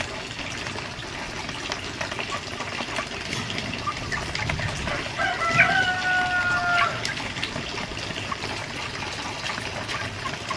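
Chickens cluck and murmur in a noisy barn, and a rooster crows once midway, rising above the background.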